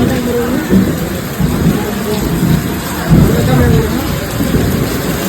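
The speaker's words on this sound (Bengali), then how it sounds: "বাইরে কিন্তু প্রচণ্ড বৃষ্টি হচ্ছিল, পুরো স্টেশন ভিজে গেছে" Heavy rain driven by wind falls across an open railway station platform, a steady dense wash of noise with rumbling low gusts swelling and easing throughout, close and loud.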